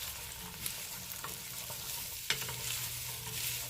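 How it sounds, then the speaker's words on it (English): Creamy chicken soup with carrots, spinach and pasta gets a quick stir in a pot, a faint, bubbling simmer with soft scraping of a spoon and a single knock against the pot. "We're going to give this a quick stir."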